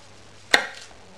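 A knife slices through baby sweet corn on a board in a single short, crisp chop, close and alone.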